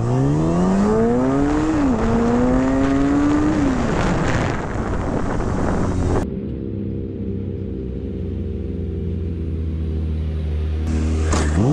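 A motorcycle engine revving and pulling through rising and falling gears while riding, loud and close, then settling into a steady lower drone with wind rush.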